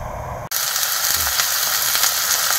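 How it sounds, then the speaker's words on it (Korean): Scallions sizzle loudly in hot olive oil in a pan as scallion oil is made for octopus fried rice, a steady dense crackle that kicks in abruptly after a brief quieter moment. "올리브유를 조금 넣고 파기름을 내겠습니다"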